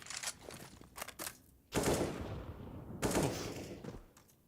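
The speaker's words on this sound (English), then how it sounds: "Patsy back on the AK" AK rifle fire in a Counter-Strike esports match, with short rattling bursts early on followed by two loud, sustained volleys that decay in the virtual space.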